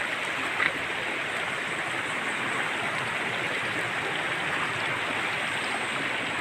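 Calubian Falls gives a steady, moderate rush of flowing water, an even continuous wash heard from a short distance with no voices, broken only by one small click near the start.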